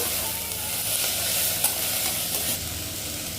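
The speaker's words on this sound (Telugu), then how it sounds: "ఇది కూడా కొంచెం ఫ్రై చేసేసుకున్నాం అంతా బాగా." Chana dal fries in oil in a pan with a constant, close hiss of sizzling. Faint stirring clicks come through now and then.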